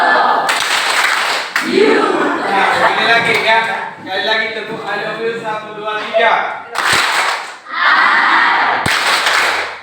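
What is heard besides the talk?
group doing the 'tepuk I love you' clapping chant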